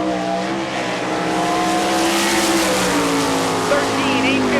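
A World of Outlaws sprint car, number 15 driven by Donnie Schatz, roars through a qualifying lap at Rossburg, Ohio, its engine a loud continuous drone with shifting pitch that rises and falls with no break.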